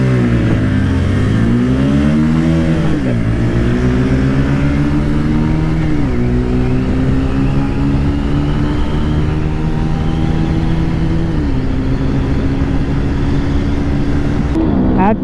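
A Bajaj Pulsar NS125 and Pulsar 125 rev hard in a drag race, with a loud continuous engine howl that climbs in pitch, drops at gear changes and climbs again, close and dominant throughout.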